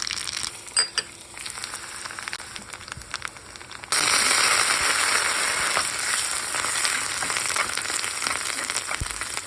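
Cumin and mustard seeds drop into hot oil for tempering, and a quiet crackle jumps to a loud, steady sizzle partway through that continues to the end without talk.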